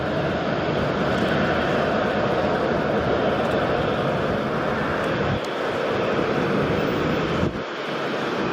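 A QantasLink airliner passes at Sydney Airport with a loud, steady roar of jet engines, broad and rumbling, mixed with wind buffeting on the microphone and no voices.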